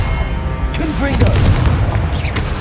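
A Confringo blasting spell going off in the video game Hogwarts Legacy: heavy low booms and crackling bursts rolling through, loud and near, with short tonal game sounds and faint voice-like fragments layered on top.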